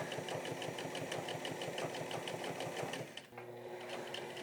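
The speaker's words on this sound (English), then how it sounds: "am now top stitching it on itself because it's just one straight line around" A sewing machine runs steadily, top stitching folded-back fabric around raincoat sleeves in one straight line; a fast, even mechanical rattle stays close and loud before briefly dipping and resuming near the end.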